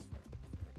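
Horse hooves in Red Dead Redemption 2, a rapid run of close clip-clop beats as the horse skids, loud and alone.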